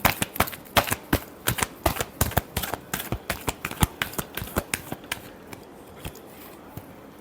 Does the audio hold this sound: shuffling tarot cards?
yes